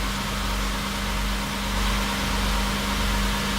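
A belt grinding machine for sharpening ski edges runs with its motor on, giving a steady, even hum with a low mains-like drone and broad hiss throughout, close and constant with no talk.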